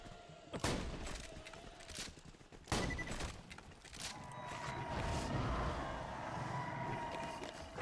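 Gunfire in Borderlands 2: a few sharp, separated shots ring out early, followed by a rising rumble of combat noise, fairly quiet overall.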